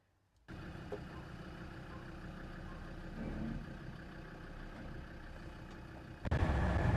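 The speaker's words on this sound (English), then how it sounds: "We're ready to give it a test drive." Land Rover Defender driving on a bypass test drive, its engine a steady low drone with road rumble heard from inside the cabin, rising louder near the end.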